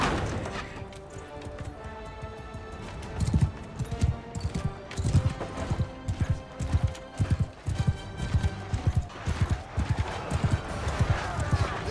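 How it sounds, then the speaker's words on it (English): Horse hooves clip-clopping in Mount & Blade II Bannerlord, a fast run of loud hoof strikes with occasional neighs and crashes of battle, growing denser toward the end. "If I can get this horse moving in there, maybe it'll push it and make a hole for him."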